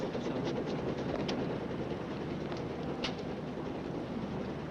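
Train pulling out of a station platform, bound for Yorkshire, giving a steady loud rumble with faint rhythmic clatter and a couple of brief high squeals throughout.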